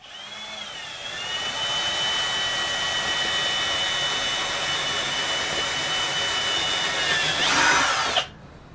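A power drill whines steadily for several seconds at a high pitch, pitch wavering slightly as it bites, then spins down and stops abruptly.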